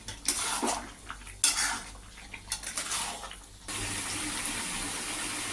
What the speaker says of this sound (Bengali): এদিকে আমি গরম জল দিয়ে দেবো